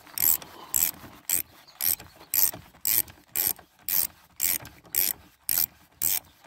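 Ratchet wrench with extension turning a car battery terminal nut loose, a close, loud clicking in steady bursts of about a dozen strokes with brief pauses between them, no talking.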